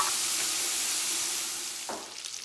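Ham grease fries in a hot pot for split pea soup, a bright steady sizzle close up that eases slightly toward the end, with a soft stirring scrape near the close.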